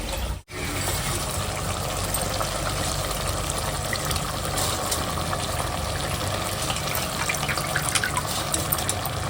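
Two tumblers of water are poured into a soaking dish in a home kitchen, a steady, loud, continuous splashing stream after a brief break at the start.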